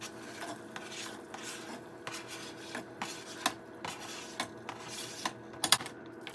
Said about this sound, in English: I'm gonna add the rest of the veggies and the tofu